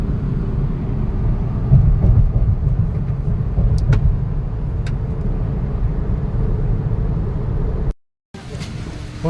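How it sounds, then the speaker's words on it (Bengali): The Lokmanya Tilak Express moves off from Shalimar station with a steady low rumble of rolling carriages and occasional clanks, heard from on board, followed by a brief cutout near the end. "বন্ধুরা, এই সবে ট্রেন ছাড়লো শালিমার থেকে।"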